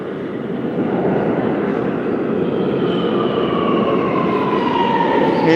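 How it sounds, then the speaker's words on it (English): A New York subway A train pulling into the station, a loud, steady rushing roar of wheels and motors with a faint rising whine building toward the end, no talk over it. "Here's an A train, take the A train."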